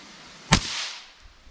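A single sharp crack from a .22 LR rifle firing a Remington Yellow Jacket round, close and loud, with a short decaying tail in an otherwise quiet setting.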